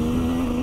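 A KTM 125 EXC enduro motorcycle engine holds a steady, buzzy tone for under a second, loud and close with no other sound.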